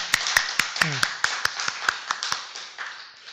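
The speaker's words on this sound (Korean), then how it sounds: "하나님께 감사의 박수 한번 보내고 싶어요." Church congregation clapping in thanks to God, a series of sharp, evenly spaced claps in a reverberant hall, mixed with voices.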